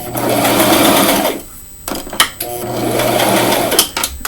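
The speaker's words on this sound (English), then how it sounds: "I have to sew, you know, hems in the collar and on the bottom." A sewing machine stitches hems on the collar and bottom edge of a pink frock, running in two long steady bursts separated by a short pause filled with a few soft clicks and handling noises.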